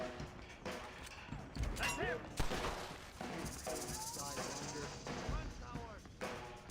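Gunfire in the video game Red Dead Redemption, several sharp shots scattered among ambient game sounds, with someone talking over parts of it.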